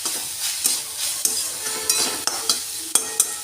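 Drumstick flowers fry in a pan, giving a close, steady sizzle broken by repeated sharp scrapes and taps of a spatula stirring, with no talking.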